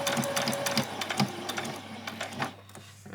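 A sewing machine stitches fabric for a child's dress in fast, rhythmic mechanical bursts that loosen and fade toward the end, close and moderately loud, with no voices.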